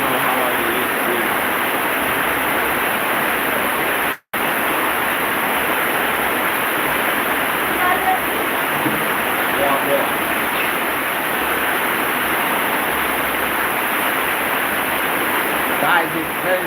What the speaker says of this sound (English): Guys, now it's always raining